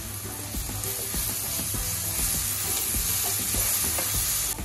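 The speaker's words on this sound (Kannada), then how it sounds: "ಧನಿಯಾ ಪುಡಿ 1 ಟೀಸ್ಪೂನು, ಗರಂ ಮಸಾಲ 1/2 ಟೀಸ್ಪೂನು, ಖಾರ 1/2 ಟೀಸ್ಪೂನು, ಅರಿಶಿನ ಸ್ವಲ್ಪ, ಚೆನ್ನಾಗಿ ಮಿಕ್ಸ್ ಮಾಡ್ಕೊಳ್ಳೋಣ" Ground spices, including coriander powder, garam masala, chilli powder and turmeric, fry in a pan for pulao. A steady loud sizzle runs throughout while a spoon scrapes and stirs at an irregular rhythm.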